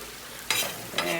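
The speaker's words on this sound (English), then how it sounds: "you can see the garlic and olive oil all sizzling on the griddle" Garlic and olive oil sizzle on a griddle, with two bright bursts of frying hiss flaring up over a quieter steady crackle, heard close and alone.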